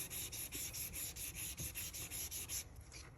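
A pen blank being hand sanded along its length: a steady, rhythmic back-and-forth rasp of abrasive strokes, about four per second, close and fairly quiet, stopping near the end.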